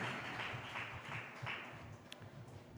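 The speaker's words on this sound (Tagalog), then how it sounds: "Pumalakpak po tayo ng sabay-sabay" Members of a church congregation clap together during a Filipino worship service, the dense applause continuous and fairly loud throughout, with a loose rhythmic pulse to it and no voices standing out.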